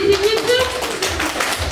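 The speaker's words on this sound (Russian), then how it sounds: "Аплодисменты свидетели." A few quick handclaps from a small group of people indoors, close by and brief, overlapping with someone talking.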